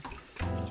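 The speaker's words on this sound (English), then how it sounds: "you want to rinse this through the running tap water" Tap water runs steadily with a rushing, splashing flow over rice being rinsed, starting abruptly partway through, close and fairly loud.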